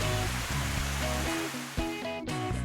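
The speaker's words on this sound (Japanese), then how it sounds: "カムイワッカ湯の滝から" The Kamuiwakka hot spring waterfall in Hokkaido pours as a constant, loud broadband rush of falling water, heard with tonal music layered over it throughout.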